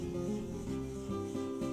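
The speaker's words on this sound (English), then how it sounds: "I take 600 grit sandpaper and start at one end, moving in circular motion." Close, steady rubbing of 600 grit sandpaper over a finish surface in a repeating circular rhythm, a soft continuous rasp with regular swells.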